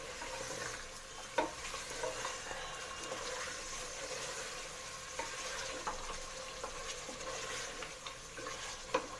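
Mutton frying in oil in a pot for chana dal gosht, a soft steady sizzle with occasional stirring scrapes and light clinks, fairly faint and without talk.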